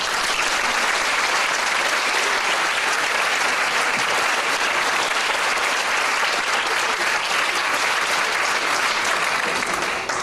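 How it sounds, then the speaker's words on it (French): A concert audience gives warm, sustained applause for a storyteller, a thick, even wash of many hands clapping at full strength without pause from start to finish. "Je vous demanderai aussi d'applaudir chaleureusement Alain Cutzek, le conteur"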